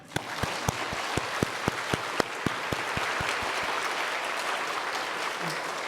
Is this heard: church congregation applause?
yes